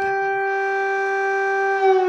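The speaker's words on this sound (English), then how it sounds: "Every night, cities like Kyiv live under the constant terror of sirens, a deafening sound blaring for hours on end." An air raid siren over Kyiv holds one steady, loud drone with bright overtones, continuous and unbroken throughout.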